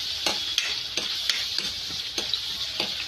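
A spoon stirring spiced ingredients frying in a pan with turmeric, with a steady close sizzle and regular scraping strokes roughly every third of a second.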